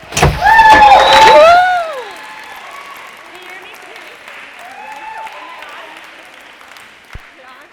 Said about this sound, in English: let's go ahead and give a warm round of applause to comedian Muffy